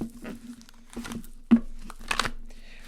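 Tarot cards being shuffled back into a deck by hand, in a few short crisp bursts of papery riffling and crinkling separated by quiet pauses, close to the listener.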